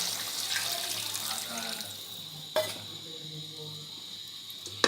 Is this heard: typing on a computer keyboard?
no